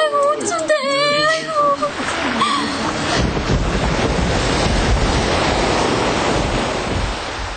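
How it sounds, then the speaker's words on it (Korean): A broad, rushing roar of large, slow sea swell and waves builds and stays loud and continuous, with wind buffeting the microphone; some speech-like sounds come before it. "파도 아닌 크고 느린 너울이 왔다"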